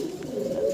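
Zero-feather Giribaz pigeon chicks make soft, close calls that rise into a sustained tonal note, heard alone with no talking.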